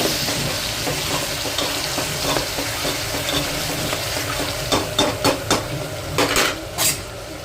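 Mutton curry stirred in a pot with a spoon, a steady background of sizzling broken by several sharp metallic scrapes and clinks against the pot toward the end; no voices.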